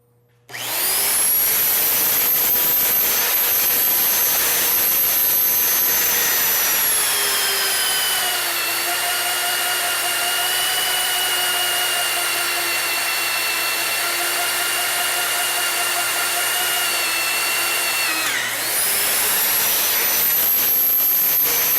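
A loud, steady high-pitched whine of an annular cutter drilling through metal, with a sustained grinding drone that shifts pitch slightly midway, then spins down briefly.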